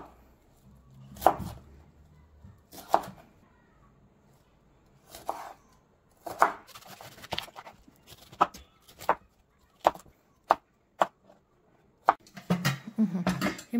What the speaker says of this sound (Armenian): Բրոկոլին էլ կտրատում ենք ոչ մեծ